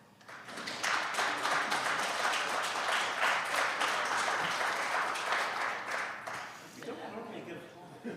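Applause at a town council meeting, a steady crowd of hands clapping for several seconds before tapering off, with faint talk underneath near the end.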